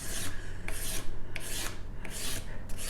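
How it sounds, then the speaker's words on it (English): A hand file rasps over a porcupine quill earring toward a matte finish in close, rhythmic back-and-forth strokes, about five or six in quick succession, with no talking. "file the larger marks out of it and keep some of the smaller stuff"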